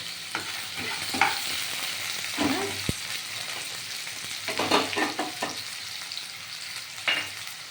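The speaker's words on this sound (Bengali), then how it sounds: "দেখুন আলু পেঁয়াজ একসাথে ভাজা হবে" Potatoes and onions fry together in a pan for a small-fish chorchori, giving a constant sizzle with repeated scraping and clattering as a spatula stirs them, close up.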